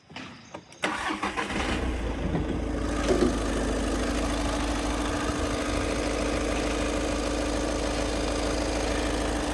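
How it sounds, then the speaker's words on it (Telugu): A 2013 Volkswagen Vento TDI diesel engine cranks and catches, then settles into a steady, loud idle with a low rumbling hum that continues unchanged. "ఒకసారి బండి ఇంజన్ స్టార్ట్ చేసి చూపిస్తా చూడండి"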